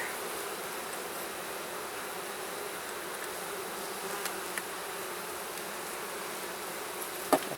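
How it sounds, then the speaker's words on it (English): A dense, continuous hum of many honeybees buzzing inside a hive, steady and enveloping, with a couple of faint clicks near the end. "There's a lot of bees in there."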